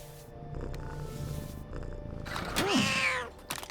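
A cartoon cat in the video game LEGO Marvel Super Heroes 2 lets out a rising and falling yowl after a quieter rumbling purr-like stretch, with game sound effects around it and no talk over it.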